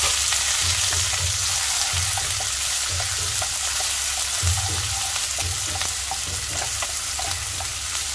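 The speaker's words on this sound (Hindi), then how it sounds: "जब जीरा हमारा भुन जाए तो इसमें हम डालेंगे एक कटा हुआ प्याज" Chopped onion frying in hot ghee with cumin, a piece of cinnamon and bay leaf, a steady dense sizzle with faint stirring scrapes throughout, close and continuous, no one speaking.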